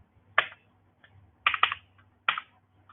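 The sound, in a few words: typing an awk command on a computer keyboard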